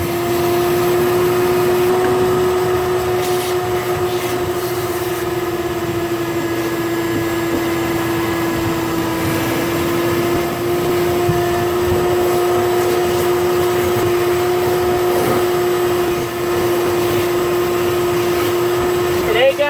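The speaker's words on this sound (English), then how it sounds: "I can't seem to find the wet part of this vacuum." A wet-dry vacuum cleaner runs in a boat's bilge with a loud, steady motor drone and a constant whine that holds unbroken for the whole stretch, close to the mic, with no voices.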